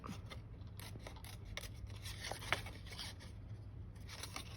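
Scissors snipping through paper to make a pop-up card mechanism, a steady run of close, quiet cutting strokes with short rasping cuts and one sharper snip near the middle.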